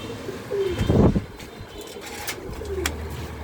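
Pigeons, including a checker male and female, coo and burble nearby in short throaty calls, one louder rolling coo standing out over a low background hum.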